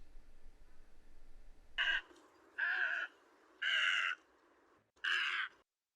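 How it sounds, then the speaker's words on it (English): Wild birds such as storks and egrets call in a flooded limestone mountain area at Tam Truc, four loud harsh cawing calls, each about half a second long, spaced roughly evenly after a stretch of quiet low rumble. "Thousands of storks, egrets, and wild birds still inhabit this area"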